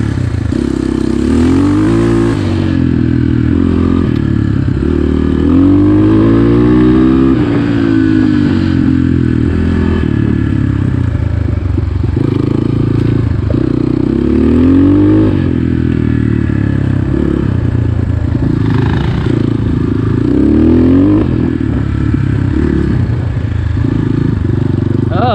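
A 2021.5 GPX FSE 250 E dirt bike rides loud and close on a slick trail, its engine revving and rising in pitch through repeated throttle bursts, with some clatter.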